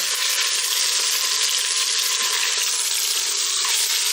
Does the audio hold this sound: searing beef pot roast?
yes